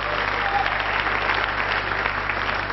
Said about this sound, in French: Je pense qu'on peut l'applaudir, vous aviez raison.